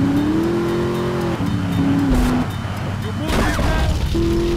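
Car driving in the video game GTA 3: a continuous engine drone that shifts pitch as it accelerates and changes gear, with a tire screech and a crash burst near the end, under someone talking.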